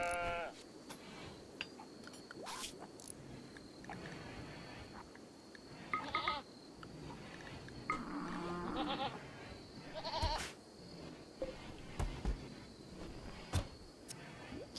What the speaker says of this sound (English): So, the sheep is being brought back.